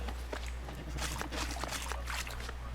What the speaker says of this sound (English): Footsteps from water.